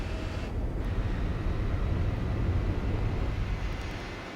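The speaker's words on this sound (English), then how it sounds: "that wind sound effect you heard in the background, that was me basically being in the slipstream of the Chrysler" Rushing wind from slipstreaming close behind a Chrysler in the racing game Gran Turismo 4, a steady broadband roar that holds loud for several seconds over a low engine drone, then eases slightly toward the end.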